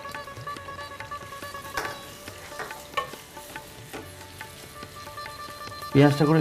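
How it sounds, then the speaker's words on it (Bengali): Onion frying in hot mustard oil for mustard-paste mutton, a close steady sizzle with stirring clicks and a louder burst of crackling near the end. "তেলটা গরম হয়ে গেছে, এবার আমি পেঁয়াজটা দিয়ে দেবো।"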